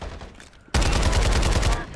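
Shotgun blasts in Farlight 84, a gameplay battle: after a quiet lead-in, a sudden loud burst of rapid heavy shots rings out in close succession, booming and dense for over a second before easing off.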